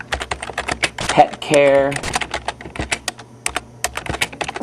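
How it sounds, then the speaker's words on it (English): Rapid typing on a computer keyboard, clusters of close, crisp key clicks with a brief pause, under a voice speaking intermittently. "I'm going to type Quality"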